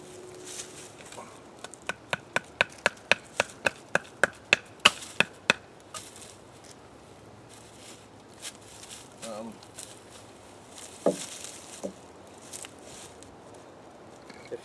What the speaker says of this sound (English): If you need to make some kindling